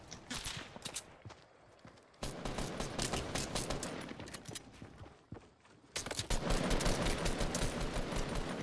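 Video game gunfire from sniping: dense, continuous rattling bursts of shots throughout, dipping briefly twice before swelling louder again, with no talk over it.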